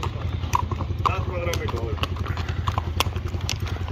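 Horse hooves clip-clop in a wedding procession as the groom rides, a steady rhythmic patter under constant loud crowd chatter and a low droning hum throughout.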